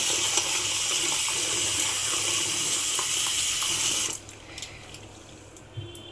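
Maize grits are washed in water for a Telangana-style gatka, and running water pours and splashes steadily up close for about four seconds before easing to quieter sloshing.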